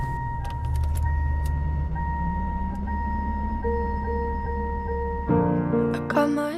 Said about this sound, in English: the car beeping on that same note as the song is in